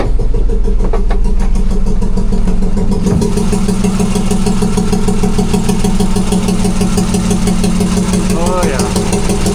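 An outboard-style boat engine roars at full throttle, a loud, steady, buzzing drone that holds throughout with slight roughness, while people talk briefly over it.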